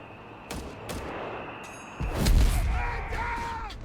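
Bazookas and other weapons firing in the real-time strategy game Company of Heroes 3, with a few sharp reports early on, then a heavy rumbling blast and continuing battle noise, all fairly close and loud.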